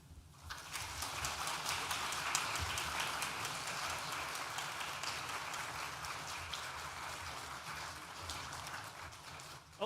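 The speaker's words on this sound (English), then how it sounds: "put your hands together for a round of applause for all who've supported you" A graduation ceremony audience claps in sustained applause, a dense, even patter of many hands lasting several seconds.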